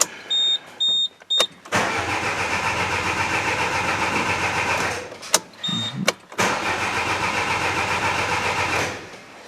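A starter cranks in short bursts, then a car engine with its intercooler pipe removed catches and runs roughly for several seconds in a repair shop, cuts out, and starts again with a steady idle.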